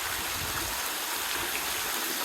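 Spring water at Shower Bath Spring in the Grand Canyon, a steady close rush and patter of falling water filling the whole clip without pause, no voices.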